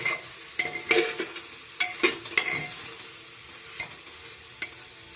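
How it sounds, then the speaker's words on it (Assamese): Pork and bamboo shoot being stirred in a pan with a spatula, producing irregular scraping and clattering strokes over a light background sizzle, close and fairly quiet, with no speech. "এনেকৈ লৰাই থাকিব লাগিব আধা মিনিট সময়"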